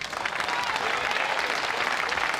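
Steady, full applause from an audience at the 1999 World Pool Championship, loud and continuous clapping with a crowd wash throughout.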